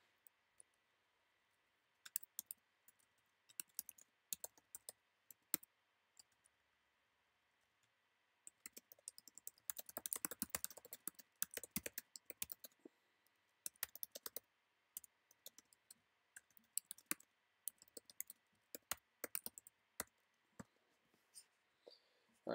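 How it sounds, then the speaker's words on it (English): A git commit message is typed on a computer keyboard in quick, irregular bursts of soft, close key clicks with short pauses, a denser flurry near the middle, and a quiet background hum. "I've typed my git commit message"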